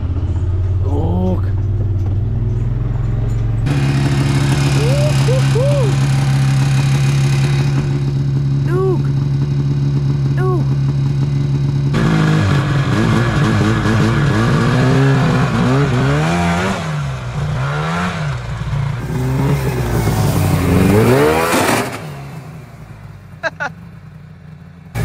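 A modded Yamaha Phazer snowmobile engine runs steadily, then revs and rises in pitch with its track slapping and rattling, loud and close, with people talking over it throughout.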